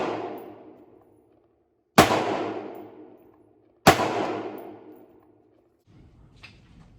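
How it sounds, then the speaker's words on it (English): Three loud outdoor gunshots from an MK18-style rifle, each a sharp crack followed by a long decaying echo, spaced about two seconds apart, with faint rustling at the end. "This rifle is very loud."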